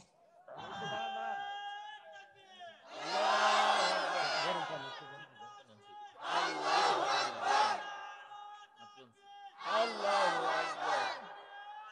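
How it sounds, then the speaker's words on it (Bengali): Large crowd at a religious sermon shouting the takbir, Allahu Akbar, in three loud surging bursts between pauses, with a preacher's voice leading in between. "একটা তাকবীর দেন তো, 60 তাকবীর দেন"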